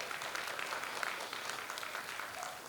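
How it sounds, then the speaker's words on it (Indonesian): Parents at an Islamic preschool Quran event applaud: a dense, steady patter of many hands clapping, fairly faint and continuous throughout. "Boleh tepuk tangannya ayah bunda."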